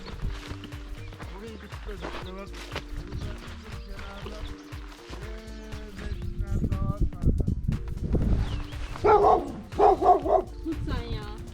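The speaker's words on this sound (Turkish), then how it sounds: "Sen köpeği ileri doğru götür." A dog barks repeatedly on a hiking trail along the Troy route near Dalyan and Kösedere, loud bursts mixed with people talking and footsteps throughout.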